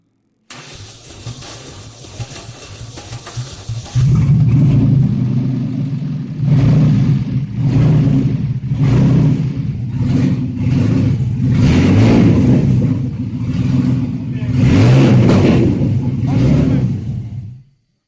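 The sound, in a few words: car engine revving during dyno run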